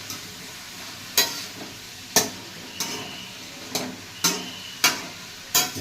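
A paneer dish cooking in about two spoons of ghee in a pan is stirred with sharp, close spatula scrapes roughly once a second over a soft background sizzle, with no talking.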